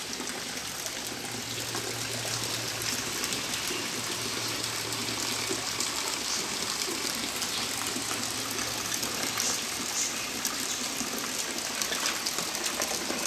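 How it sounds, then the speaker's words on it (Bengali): Rainwater gushes from a roof straight into a drum in a village, a continuous loud splashing pour with a faint low hum underneath and no voices. "ছাদে থেকে পানি পড়তেছে ডাইরেক্ট এই যে ড্রামের মধ্যে"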